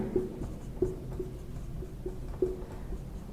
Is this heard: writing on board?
yes